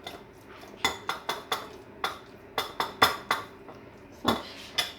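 Eggplant being mixed with metal utensils in a bowl, a series of sharp, close clinks and taps in an irregular rhythm over a quiet background, no talking.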